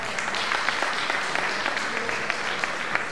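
Applause from the audience at a commemoration of Scanderbeg's 550th death anniversary in Rionero-Barile, steady and fairly dense, with crisp individual claps standing out over a continuous wash of hands.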